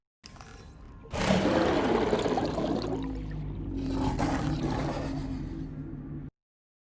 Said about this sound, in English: as it chases down you, it makes this booming roar